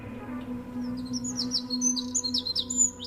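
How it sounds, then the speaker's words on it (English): Birds chirp and tweet in quick, bright bursts in a Doctor Who scene, several calls overlapping over a low steady background hum, moderately close and growing livelier toward the end. "Where there's still birds."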